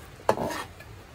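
A single short metallic clink and scrape of stirring in a pot of khichuri made with gobindobhog rice and sonamug dal, brief and fairly quiet against a low background.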